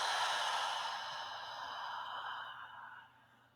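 One long, breathy exhale through the mouth comes up close and soft at a calm, relaxing pace, then tapers off into quiet.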